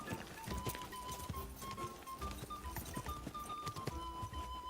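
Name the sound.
horse Pebbles running, hooves, in video game Kingdom Come 2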